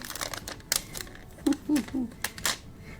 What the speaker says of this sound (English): So I'm going to stamp From Santa.